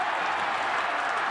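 Fans at a 2012 NRL rugby league match between Parramatta Eels and Manly Warringah Sea Eagles cheer and applaud in a dense, steady wash of crowd noise.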